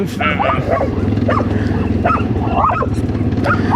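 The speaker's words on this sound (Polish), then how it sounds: "I pieseł, dziki pies dingo." Dogs, including a dingo-like wild dog, bark and yip while chasing two quad bikes, with short sharp calls repeating over steady engine rumble and people talking.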